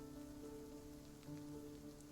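Faint, steady rain falling at night as game ambience, a soft even patter that continues unchanged throughout.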